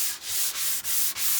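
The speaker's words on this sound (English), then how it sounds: "While I got the sanding pad in my hand, I'm just going to rough down the surface" A sanding pad rubs over an MDF panel in four long, even back-and-forth strokes, a close, steady abrasive scrape with brief dips where the stroke reverses, no voices.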